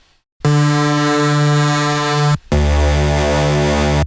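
Thick, detuned synth tone built in Renoise, layered with stereo panning spread and pitch detune for an almost analog character, holding a steady buzzy chord for about two seconds, then cutting briefly before a second sustained, denser tone.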